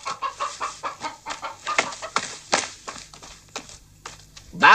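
A loose hen clucks in a repeated rhythmic run in a rural yard, with a sharper rooster-like call at the end, while voices speak over it.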